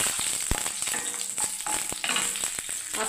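Cinnamon sticks, added to hot oil with cardamom and dried chillies, sizzle and crackle steadily, with a few sharp clicks of stirring.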